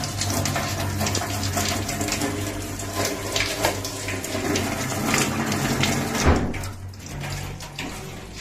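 Water runs steadily from a tap in an apartment, a loud, close, continuous gushing rush with a slight surge near the end.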